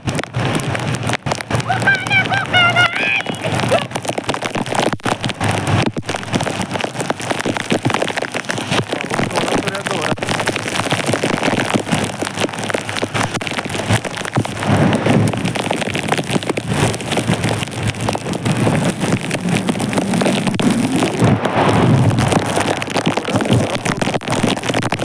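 Heavy monsoon rain pours through trees near Barki waterfall in Kolhapur, a loud continuous hiss and patter filling the whole stretch, with brief voices in the mix.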